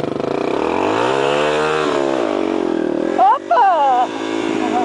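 A trail motorcycle engine revs loudly and close, its pitch rising and falling, then sputters and drops off briefly as it stalls before the sound continues; voices can be heard in the background.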